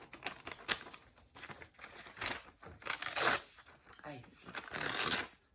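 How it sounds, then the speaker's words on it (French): Large sheet of paper being cut, close crisp rustling and snipping in irregular bursts, with a short spoken exclamation in between. "bon là je vais le couper parce qu'il est un peu grand"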